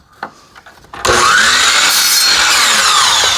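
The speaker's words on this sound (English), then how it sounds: "I cut off one end at 45 and I just push it to the stop block." After a few light clicks and handling noises, a miter saw powers up and cuts a 45-degree piece of wood, a loud, sustained whining roar close by that continues to the end.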